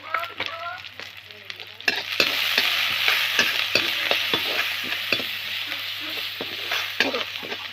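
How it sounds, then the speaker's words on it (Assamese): Sliced onions fry in hot oil with salt and turmeric, sizzling steadily and loudly close up, with repeated scraping stirs of the spoon in the pan. "মই নিমখ হালধি দি এয়া পিঁয়াজ ভাজি আছোঁ"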